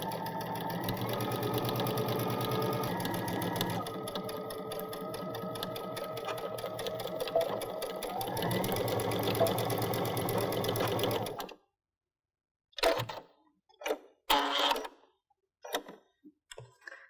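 A sewing machine runs steadily for about eleven seconds, stitching the side seam of a fabric drawstring backpack bag with a fast, even whirring chatter, then stops, followed by a few brief separate knocks and handling sounds.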